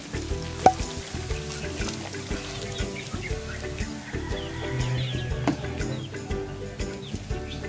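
Coke poured into a pan of frying pork for sarsaleg, a steady close sizzle with background music and clatter throughout.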